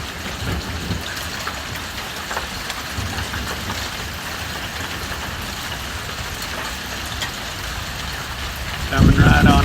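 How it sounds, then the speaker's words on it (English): Steady rain pours down during a Western Kansas thunderstorm, a constant dense hiss with heavier drops heard from a porch, growing louder near the end. "I think you can hear that rain."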